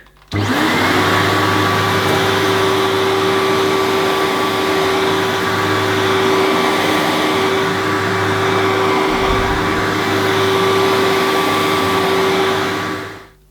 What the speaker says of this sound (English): I'll just clean up this bit of dirt that it's left on my rug.